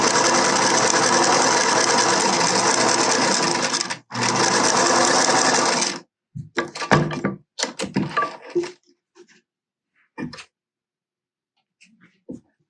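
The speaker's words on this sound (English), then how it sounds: "with your machine, you are going to put these right sides together and sew down the one edge" A sewing machine stitches a seam in fabric with a loud, steady close whir, stopping briefly and then running again, followed by scattered handling thumps and clicks as the fabric is moved.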